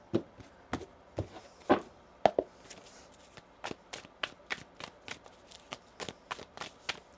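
Tarot cards are shuffled close by in a series of quick riffling bursts, irregularly spaced, with no talking.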